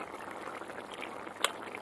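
A pan of amudi fish curry, with green chillies and chopped coriander stirred in, bubbles gently on the stove. The simmer is a faint, even hiss with a single small pop near the end.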